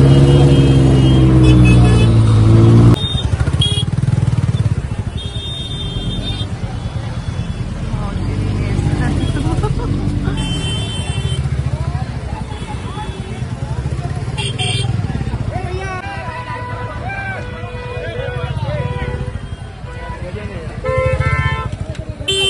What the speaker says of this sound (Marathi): सकाळी तेवढी ट्रॅफिक लागली.